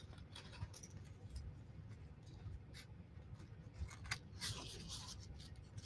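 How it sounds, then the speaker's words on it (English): Scissors snip around a painted paper caroler figure for a mixed media Christmas card, giving soft, close, irregular crisp cuts over a low rustling background. "I'm just coming in here with my scissors and I'm getting as close to her as I can."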